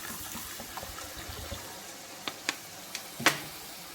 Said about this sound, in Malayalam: നമുക്ക് വിനാഗിരി ഒഴിച്ചു കൊടുക്കാം.